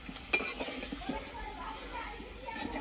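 Fish is dropped into a pan and stirred with a utensil on a home stove. A short stretch of light sizzling and metal scraping, with a few clinks, plays under a nearby talking voice.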